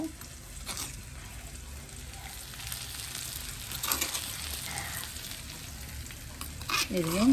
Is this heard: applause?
no